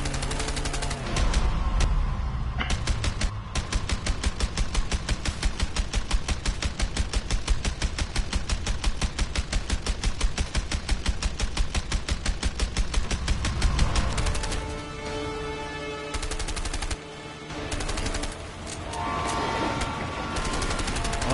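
Rapid sustained automatic gunfire in A Way Out, a dense loud stream of shots for about fourteen seconds, then sparser bursts and scattered single shots over mixed game sound.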